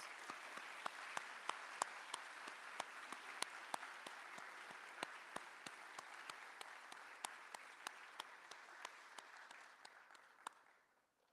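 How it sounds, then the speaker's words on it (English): A fairly quiet, somewhat distant crowd applauds salutatorians at a high school awards night, a steady wash of clapping with sharper individual claps standing out, holding evenly before tapering off at the end. "Let's give these salutatorians a round of applause,"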